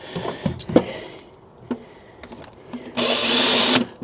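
A power drill, hammer mode off, whirs in a steady sustained burst near the end while fitting parts on a Morris Minor car, preceded by a few short clicks and knocks of handling.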